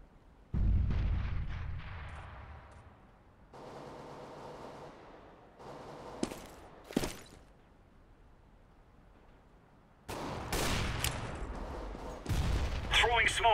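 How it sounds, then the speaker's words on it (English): A grenade lands and explodes in Counter-Strike: Global Offensive on de_mirage, a loud booming blast among other gunfire and explosion effects, with several long, heavy bursts across the scene. "Grenade out."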